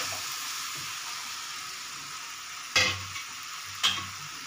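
Cooked rice stirred into spices fried in oil in a pan, a soft continuous sizzle close by, broken by two sharp scraping clacks of a utensil against the pan.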